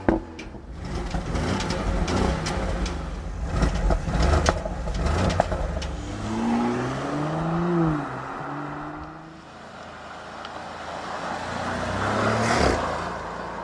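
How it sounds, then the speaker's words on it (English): Engines rev on a 3-liter V6 and a 4-liter V8 from an Audi and Porsche lineup: loud rising and falling exhaust revs, with throttle blips early on and a sustained sweep in the middle, close to the car and without talk. "the 3-liter V6 or here the 4-liter V8"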